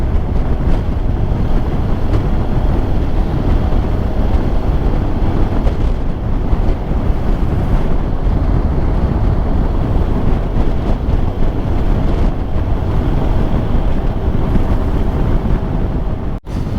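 Steady, loud wind buffeting the microphone on a motorcycle tour in Japan, a continuous roar that holds for the whole stretch with no talking.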